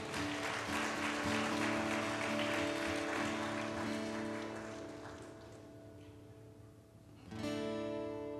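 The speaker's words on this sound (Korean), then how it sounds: "우리를 예배로 부르신 주님께 우리 영광의 박수 올려드리겠습니다." A youth congregation at a Sunday church worship service claps in praise over sustained keyboard chords, the applause strong at first and fading out before the music swells again.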